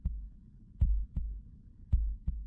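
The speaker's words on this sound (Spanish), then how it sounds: "Escuchemos los latidos." A heartbeat thumps in a quiet, muffled, low register, with soft lub-dub pairs repeating at a steady, unhurried pace and no voices over it.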